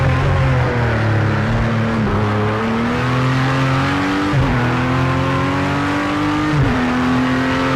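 Race car at full throttle during Daytona practice ahead of the 24 Hours, a loud close engine whose pitch climbs through the gears, with repeated sharp drops at each upshift before it rises again.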